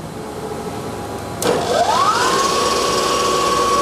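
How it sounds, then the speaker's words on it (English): A drill mill spindle whirs up to speed after a sharp click, settling into a steady high whine as it cuts a chamfer, close and continuous with no talk. "We're going to go ahead and turn our spindle on, and we are going to cut a chamfer"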